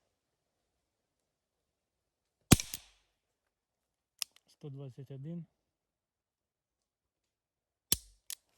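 A Flobert Alfa 440 rifle fires two sharp, loud cracks several seconds apart, with a faint click between them and someone speaking briefly in the quiet gap.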